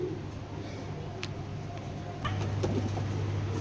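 Giribaz Pakistani high-flyer pigeons of an old breed coo in low, steady murmurs that carry on throughout, with a fuller, louder cooing swell in the second half.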